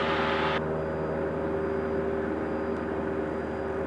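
Steady engine drone and wind roar fill the cabin of a light airplane on a charity flight, a constant loud tonal hum with a brief hiss at the start that cuts off abruptly.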